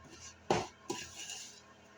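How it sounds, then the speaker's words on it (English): A one-pan meal is stirred in a pan, with two soft knocks of a utensil against the pan followed by light scraping, faint and close. "I'm going to stir it all up"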